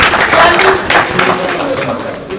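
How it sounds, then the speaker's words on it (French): Audience in a concert hall in Lyon applauding to encourage the performers, a dense wash of many hands clapping with voices mixed in. "On applaudit s'il vous plaît pour encourager les artistes."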